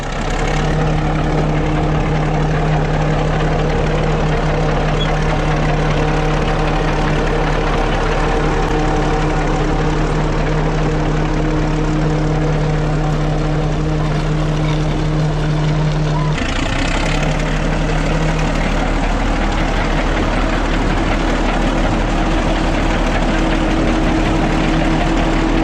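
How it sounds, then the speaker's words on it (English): A steam ploughing engine runs on the move in heavy rain beside a muddy field, a loud continuous low rumble and hum that shifts partway through, with no voices. "we've got a ploughing engine on the move now."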